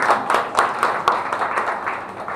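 An audience at a devotional abhang singing performance claps in a steady, fairly loud patter of hands. The clapping rises and falls with a loose rhythm, and faint voices are mixed in.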